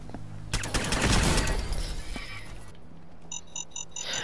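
A mine detonates in Fallout 4 with a sudden loud blast and a shattering burst of debris that fades over about two seconds, followed by a few short electronic beeps.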